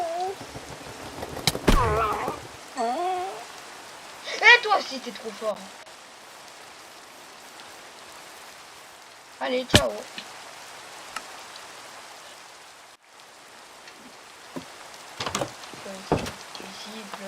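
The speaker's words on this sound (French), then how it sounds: "Ici, il pleut apparemment." Steady rain falling in a video game, a continuous soft hiss running under a few spoken lines and scattered sharp clicks and thumps.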